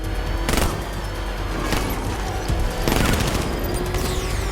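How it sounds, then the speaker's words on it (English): Enemy gunfire in Batman: Arkham Knight comes as several loud, close bursts of rapid shots spaced a second or so apart over a constant rumbling game backdrop. "I'm taking enemy fire!"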